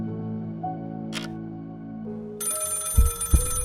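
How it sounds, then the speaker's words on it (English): A telephone rings amid a dark, tense musical backdrop, the ring entering partway through as a bright sustained tone over low thumping hits, with no talking. "The breakthrough came in the form of an unexpected phone call."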